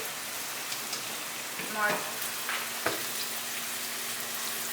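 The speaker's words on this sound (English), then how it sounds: "Now the onion is gonna like cook" Chopped onion sizzling in a pan as the base for an eggplant lasagna, a steady close hiss like light rain with a few faint stirring clicks and a brief word of speech.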